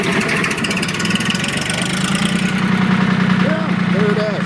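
A Porsche diesel tractor engine, warmed with a glow plug, cranks and settles into a steady mid-pitched idle with a knocking rumble, loud and close throughout.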